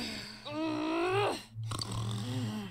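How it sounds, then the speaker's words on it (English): A Persona 4 Golden character lets out a loud, exaggerated snore: a long, rising harmonic snort with a drawn-out inhale, a brief pause, then a lower rumbling follow-up under faint game background music. "Oh my goodness, who snores like that?"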